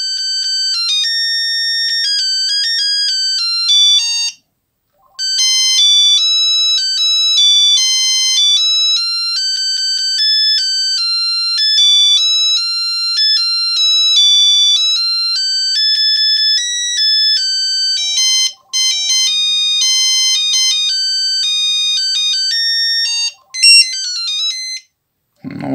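A 1999 Trium MT140 Astral mobile phone plays its ringtone melodies one after another, loud, thin monophonic electronic beeping tunes with brief gaps between them and no talking.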